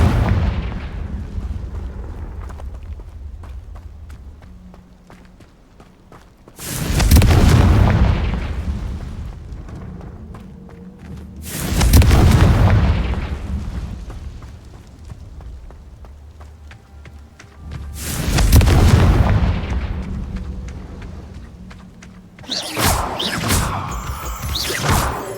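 Confringo fire spell explosions in the video game Hogwarts Legacy: four loud, booming blasts spaced several seconds apart, each a sharp roaring burst that slowly rumbles away, with a quieter hum between them.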